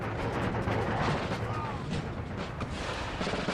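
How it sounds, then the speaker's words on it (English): Cannon fire in a Total War: Empire siege battle, a dense, continuous rumble of booming artillery shots layered over one another, loud and steady throughout with a voice talking faintly underneath. "Those cannons will wreck shit up."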